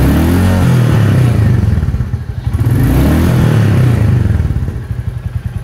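Motorcycle engine revving hard under full acceleration, loud and close. Throaty pulses rise in pitch, dip briefly midway, then climb again with some mechanical clatter.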